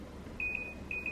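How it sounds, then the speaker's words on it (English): A kitchen timer being set next to a stovetop gives off a few high, thin electronic beeps, one long followed by shorter ones, over a low steady background hum with no talking. "I'm setting the timer,"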